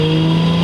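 A Toyota Supra engine, untuned and running rich, holds a steady loud rev with a strong low tonal drone and harmonics, close and unbroken, with no voices.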